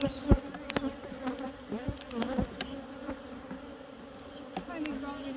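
Honey bees buzz steadily around their hives during a colony split, a continuous mid-pitched drone with individual insects flying close past the listener, occasional louder passes over the hum.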